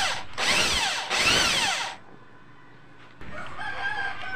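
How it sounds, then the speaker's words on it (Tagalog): A power drill bores a hole to take a screw that clamps a welding cable in a DIY welding holder: two loud whining bursts that rise and fall, a quiet gap, then a steadier lower run of the motor. "At bubutasan muna natin para may paglagyan tayo ng screw pangipit sa ano, sa welding cable natin."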